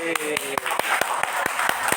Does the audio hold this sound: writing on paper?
no